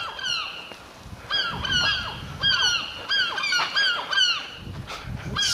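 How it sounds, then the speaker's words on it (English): Gulls squawk in a rapid series of loud, harsh calls, close by and overlapping, with brief gaps between bursts; one gull perches just above a house chimney pot. "His beak with all that noise is just above our chimney pot."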